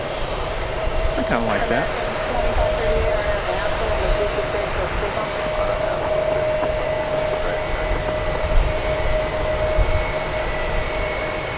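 A Spirit airliner's jet engine drones steadily at DFW Airport, a loud continuous roar with a sustained whine, while a person talks briefly over it.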